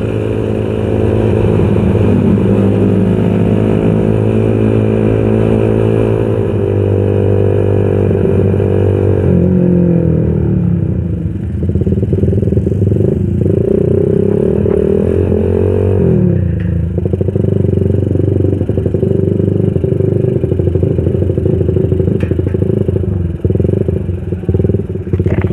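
A Suzuki Raider 125 motorcycle engine running rough on a Sunday morning group ride, a loud, steady sputtering drone with uneven clattering and a shift in pitch partway through, close to the microphone throughout.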